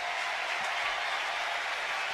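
A baseball crowd at a Phillies–Mets game on a Sunday night stands and applauds pitcher Jesus Luzardo, producing a dense, steady wash of clapping and cheering heard from a distance.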